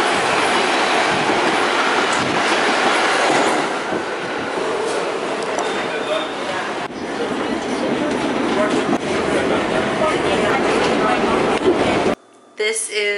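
A New York City subway train rumbles along the tracks with a steady, loud clatter and a faint wheel squeal, then the sound cuts off abruptly near the end.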